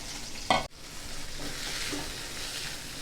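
Chopped onion and green chilli are stirred into hot oil in a kadai, a soft continuous sizzle with a brief clatter of a spoon against the pan near the start, fairly quiet and close.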